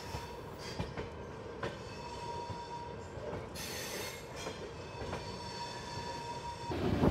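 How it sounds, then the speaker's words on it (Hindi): The 12616 Grand Trunk Express rolls at speed through Hazrat Nizamuddin railway station in Delhi, wheels clattering over rail joints with rhythmic clicks and metallic squeals, a steady close rumble from on board with no talk. "ये है हज़रत निज़ामुद्दीन रेलवे स्टेशन, जिस पे हमारी ट्रेन बहुत अच्छी स्पीड से स्किप कर रही है।"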